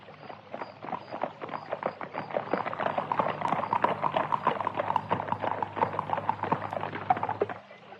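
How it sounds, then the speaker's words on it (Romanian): Horse-drawn carriage rushing along, hooves clip-clopping in a fast steady rhythm that builds, holds loud and close, then stops abruptly with a low rumble underneath. "fata zări gonind năvalnic dintr-un luminiș o caleașcă de poveste"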